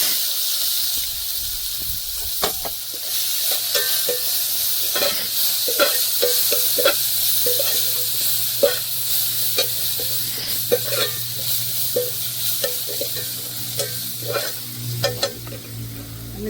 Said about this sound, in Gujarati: હવે આપણે એમાં નાખી દઈશું કાંદાની પેસ્ટ.